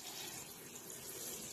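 Water poured steadily while making dalle khursani chili pickle, a close, continuous splashing wash with no break and no voices.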